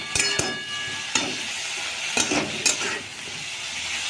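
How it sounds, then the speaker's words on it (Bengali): Vegetables for a beetroot curry sizzle steadily in a pan with hot oil, with close, loud frying hiss and a few sharp scrapes and taps of a stirring spoon. "এটা ভালো করে ভেজে নিই"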